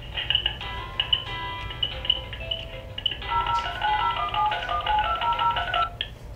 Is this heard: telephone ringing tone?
yes